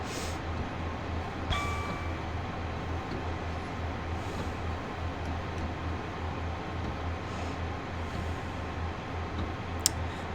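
A Class 150 Sprinter diesel multiple unit in the Train Sim World game, a steady low engine drone with rolling noise throughout, joined by a faint click and a brief high tone.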